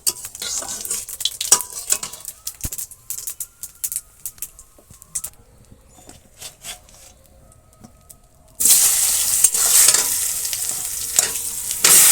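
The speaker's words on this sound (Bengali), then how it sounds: "আর তেলে পরে জিরে দিয়ে দিয়েছি" Cumin seeds dropped into hot oil in a village kitchen, after fish was fried; scattered clinks and stirring scrapes first, then a loud, dense sizzle bursting up and holding steady close by.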